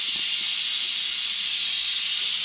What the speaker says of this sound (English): open this valve this way. And that will release all of the steam that's inside the pot.